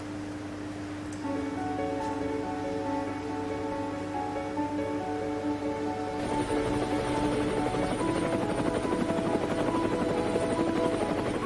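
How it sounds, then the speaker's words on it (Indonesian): A helicopter flying past in a VFX piece, its rotor drone holding steadily close and loud, then shifting to a rougher, brighter chopping whir partway through as it passes, with no talk. "ini adalah video proses pembuatan VFX ke helikopter lewat"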